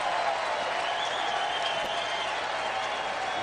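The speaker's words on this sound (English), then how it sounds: "Actually, a lot of derisive cheering from the fans in Baltimore." Baseball fans in Baltimore at a Rangers–Orioles game send up a sustained wash of derisive cheering and clapping, a steady, distant crowd roar.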